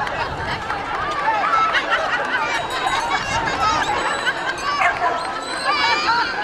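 Several dogs at a sheepdog show at a horse driving competition bark, yip and whimper throughout amid a busy crowd, with people talking close by.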